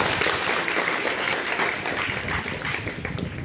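A room full of people bursts into sustained, dense applause for a presenter who set Piaget's theory of cognitive development to an original poem; steady clapping fills the whole stretch without pause.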